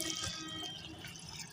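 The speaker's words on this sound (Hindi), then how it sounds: "अच्छे से पानी देना है ताकि सारी मिट्टी बैठ जाए और हमारा प्लांट भी अच्छे से इसमें सेट हो जाए" Water poured steadily onto soil around a newly planted bean plant in a garden pot, giving a soft, continuous splashing and trickling sound close by with no speech.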